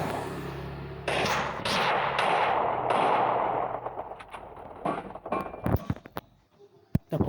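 Rapid gunshots in the mobile shooter Free Fire during a 4v4 match: a dense burst early, then scattered sharp cracks and single shots trailing off, fairly loud and close.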